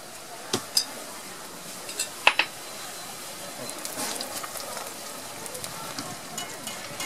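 Churros cook in hot oil with a steady, soft fizzing hiss, broken by a few sharp pops and crackles near the start and scattered lighter crackles later on.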